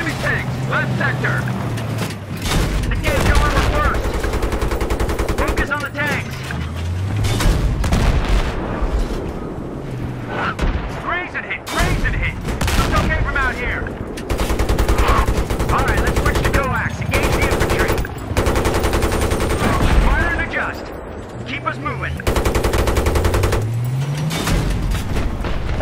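Battlefield 3 tank battle with heavy gunfire: machine-gun bursts and repeated cannon booms, with vehicle engines rumbling underneath, loud and nearly continuous, while voices call out over the combat.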